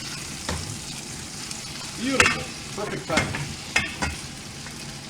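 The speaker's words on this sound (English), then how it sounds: "You can hear the chicken popping in the background" Chicken thighs sizzle and pop in a hot pan with occasional scraping and stirring, while a person speaks briefly over the frying.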